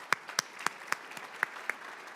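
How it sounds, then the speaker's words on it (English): Applause at a golf association awards banquet, heard as a faint, sparse scattering of single hand claps at uneven intervals, distant and quiet. "please give them another round of applause."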